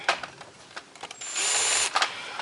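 A power drill driving screws into wood, with short whirring bursts followed by one longer steady drive, close and moderately loud, with no speech.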